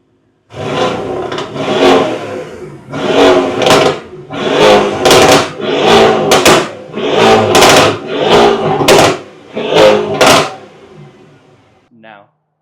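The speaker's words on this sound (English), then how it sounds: "The twin turbo V8, in my opinion, is one of the best sounding engines." Twin-turbo V8 exhaust of a tuned Mercedes-AMG GT R revving hard, a series of about eight loud, close bursts separated by brief dips, with crackles and pops trailing off at the end.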